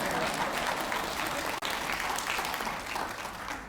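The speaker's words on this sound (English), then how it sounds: "You go ahead and applaud." A town hall audience breaks into sustained, dense applause, steady and fairly loud throughout with a brief dip partway, then tapering slightly near the end.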